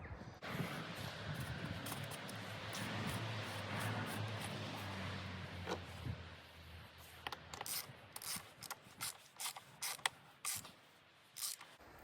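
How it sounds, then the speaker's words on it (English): A torque wrench tightening the oil filter housing on an Audi A6 C5, heard as a series of quick, sharp ratcheting clicks in the second half after a dull rubbing mechanical stretch, close and faint overall. "And then we're just going to torque it up to 25 newton meters."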